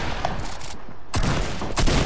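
Rapid bursts of gunfire from a multiplayer shooter video game, a dense volley in the opening half-second, a brief lull, then two more loud clusters of shots close up.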